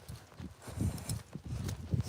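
A working horse walks at an easy pace, its hooves clip-clopping in a steady, fairly close rhythm with faint background noise.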